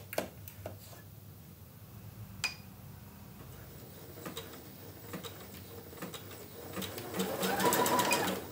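A computerized embroidery sewing machine running a CutWork tote bag project, stitching the outline of a key: a steady mechanical whir with quick needle ticks that swells louder near the end, with no talking.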